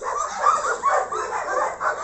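One of two traumatized dogs growls and whines in a steady, wavering stream of close vocal sound, rising and falling in short swells with no talking.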